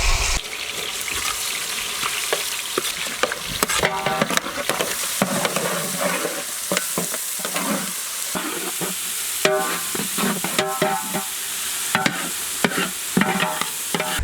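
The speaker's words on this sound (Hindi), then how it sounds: "फाइनली चॉप्ड ऑनियंस इसी गरम तेल में ऐड करेंगे।" Finely chopped onions hit hot oil already spiced with cinnamon, cardamom and cloves for a mutton curry, sizzling loudly and close while a spoon scrapes and stirs in steady, clattering strokes, with no talk.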